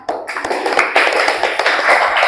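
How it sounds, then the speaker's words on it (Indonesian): A classroom applauds a student group after their presentation, with dense, continuous clapping from many hands close by that sustains steadily throughout. "beri aplaus untuk kelompok 4"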